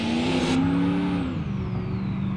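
A V8 in a BeamNG.drive T-series vehicle with a 5,000 RPM rev limit, revving hard with a loud, steady harmonic drone that climbs and then eases slightly, heard close and alone.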